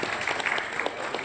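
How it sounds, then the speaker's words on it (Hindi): Applause from an audience at a motivational network-marketing seminar, a dense steady wash of clapping that fills the short moment without a break. "तो आप सभी के लिए एक बार जबरदस्त ताली चाहता हूँ।"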